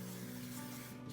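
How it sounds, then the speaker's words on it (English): Cooking spray hisses from an aerosol can into cake pans in one faint, continuous burst, close by, with no one talking. "we're just going to spray a little cooking spray in the pan"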